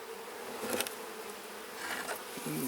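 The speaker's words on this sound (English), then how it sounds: "Okay, I see some bees." Honeybees buzzing in an opened split hive, a dense continuous drone with a few nearer passes swelling briefly louder, no talk.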